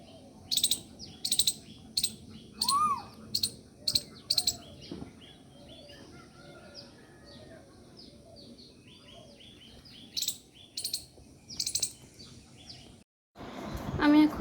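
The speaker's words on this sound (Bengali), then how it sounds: "দেখো সবাই কোকিল পাখি ডাকতেছে" A koel cuckoo calls outdoors in repeated bright bursts, with quieter chirps and a lull in the middle. A louder clump of calls returns near the end before a sudden noisy burst cuts in.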